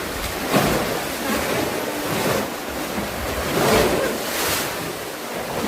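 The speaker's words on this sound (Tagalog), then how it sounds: "Ayun na yung alon." Ocean waves at Crystal Cove on Boracay Island roll in and wash against the shore in broad, repeated surges, with steady wind buffeting the microphone.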